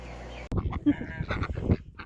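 Backyard chickens, including a young rooster, give a short burst of honking, clucking calls, close and fairly loud, with a voice chatting nearby.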